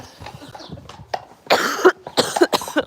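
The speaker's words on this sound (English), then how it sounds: "I'm having a coughing fit now" A close coughing fit: several harsh, rapid coughs in two bursts, following quiet muffled sounds.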